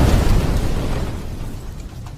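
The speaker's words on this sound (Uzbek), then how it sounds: "Ularni hammasi portlab ketdi." Explosion in the Minecraft video game: a loud, broad low boom at the start that decays into a fading rumble over a couple of seconds, with no talk.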